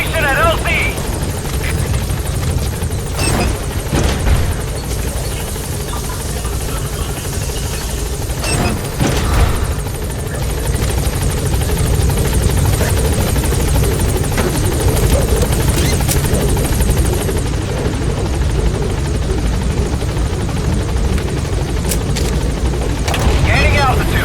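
Loud, continuous thumping rotor drone of the Pequod helicopter arriving at a landing zone in Metal Gear Solid V: The Phantom Pain, close and sustained, with scattered gunfire bursts and voices talking over it.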